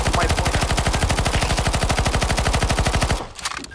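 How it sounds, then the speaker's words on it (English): Automatic gunfire aimed at zombies in CS2 Zombie Escape, a fast, steady burst of rapid shots running about three seconds close and loud before it cuts off abruptly. "Okay, we're gonna shoot zombies."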